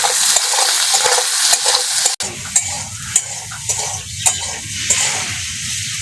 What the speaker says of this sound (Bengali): ভালো করে নেড়েছে লাল লাল করে ভেজে নেব